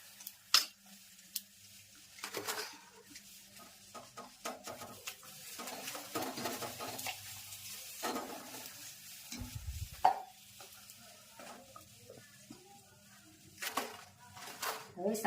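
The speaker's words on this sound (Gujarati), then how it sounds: "હવે સંભારો વઘારવાનો છે." Sambharo vegetables are tempered in a pan, giving a soft intermittent sizzle broken by stirring scrapes and clinks of a utensil against the pan, with quiet talk in the background.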